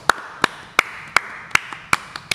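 Slow, steady hand claps, about seven or eight evenly spaced beats, close and crisp with no talking over them.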